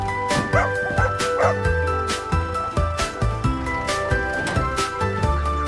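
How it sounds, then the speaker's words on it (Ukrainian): A small dog barks and yips a few quick times near the start, over bouncy, cheerful background music. "Вірно. Це песик."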